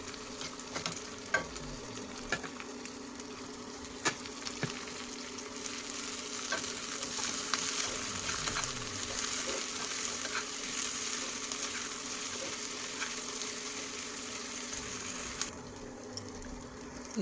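Onion, garlic and ginger tadka frying in a pan for Punjabi-style sarson ka saag, a steady close sizzle with occasional stirring clicks running continuously without talk.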